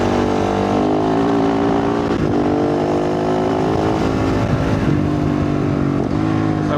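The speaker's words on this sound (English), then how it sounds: "Bike sounds lovely, but it's seriously loud." A loud motorcycle with a 51-tooth rear sprocket rides across the desert, its engine droning steadily with slight rises and dips in revs, close and dominant from start to finish.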